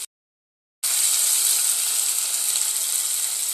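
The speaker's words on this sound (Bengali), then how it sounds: "এবার আমি জল দিয়ে দেব" Water poured onto well-fried masala in a pan for Katla fish curry sets off a loud, hissing sizzle after a brief silence, then holds steady and close to the end.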